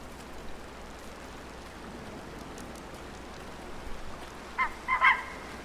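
Geese honk in a few short, loud calls near the end, rising over a steady rain-like hiss of ambient noise in the hunting game Way of the Hunter.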